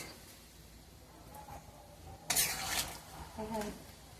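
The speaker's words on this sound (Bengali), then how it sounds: "এবারে ভেজে রাখা আলুগুলো দিয়ে দিচ্ছি।" Fried potatoes tipped into a pot of thin mutton curry and stirred, a soft bump and wet clatter of stirring with faint sizzle, mostly quiet around it.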